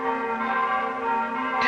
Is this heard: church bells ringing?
yes